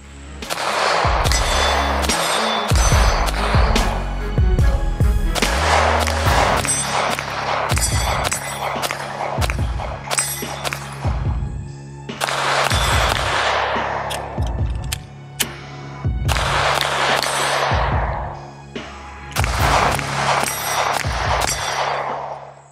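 A Springfield Armory Hellcat Pro Comp OSP pistol fired at a range, loud cracks and clanks repeating in irregular bursts over steady background noise.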